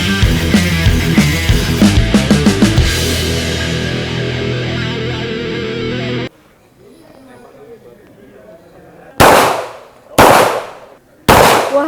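Shots fired during reaction shooting practice: a rapid cluster of sharp cracks at first, then a quiet gap, then three loud, separate, widely spaced reports close by.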